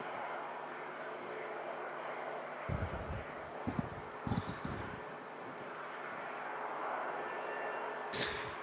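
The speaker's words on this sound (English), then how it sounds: "TUI Dreamliner lining up next to go." A TUI Boeing Dreamliner jet lines up at Manchester Airport with a steady, distant engine roar, mixed with wind noise and a few low thumps.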